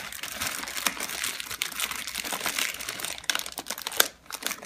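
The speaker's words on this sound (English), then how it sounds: "I found a standard store brand Ziploc bag." A store-brand plastic Ziploc bag crinkles and rustles steadily as it is worked into a travel potty, with close, continuous crackling and a few sharper crunches near the end.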